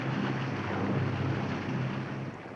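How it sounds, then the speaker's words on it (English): A lifeboat's powerful engines roar as it surges forward off the tractor, a loud broad rushing drone with low hum, steady and close, tapering slightly at the end. "The boat is free, its powerful engines roar into life, and it surges forward,"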